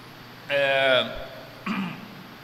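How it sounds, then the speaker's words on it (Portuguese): A preacher with rhinitis, mid-sermon, clears his throat with a short voiced rasp, then gives a brief, softer cough a moment later, close and fairly loud against a quiet room. "eu vou tossir bastante daqui para o fim do sermão"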